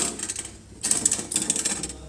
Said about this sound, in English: now you want to tighten this all the way using a spanner